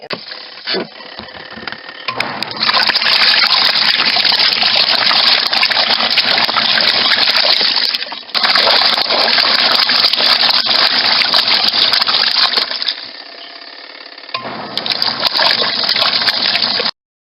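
A washing machine rinsing laundry, water gushing and churning steadily for long stretches with a brief break midway and a drop to a quieter slosh near the end, close and loud with no talk.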